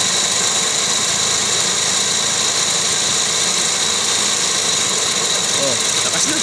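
A Toyota Vios engine running smoothly after an ignition coil replacement, a loud steady idle with a constant mechanical hum and whine, no misfire stumbles, and background talk.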